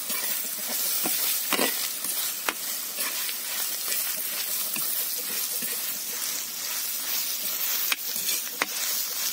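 A spoon stirs and scrapes chopped scarlet gourds sizzling in hot oil, with occasional sharp clicks against the pan, close by.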